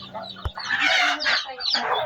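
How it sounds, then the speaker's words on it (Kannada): A country mother hen clucks repeatedly to call her newly hatched chicks to food, close and clear, in short rhythmic bursts with a brief sharp tap near the start. "ನೋಡಿ ಈಗ ತಾಯಿ ಕೋಳಿ ತನ್ನ ಮರಿಗಳನ್ನು ಹೇಗೆ ಕರೀತಾ ಇದೆ ಅಂತ ಫುಡ್ ತಿನ್ನಿಸೋಕ್ಕೆ"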